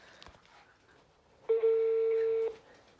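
A phone call being placed: a click, then a steady electronic ring or dial tone lasting about a second, loud and close, with faint background noise around it.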